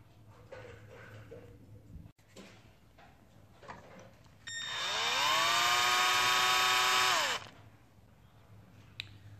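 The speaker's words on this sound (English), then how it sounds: "Then you have to make the drill hole on the surface." A power drill bores a hole into the base of a glass-tube anniversary clock, a single loud whirring burst of about three seconds that spins up, holds steady, then winds down amid quiet surroundings.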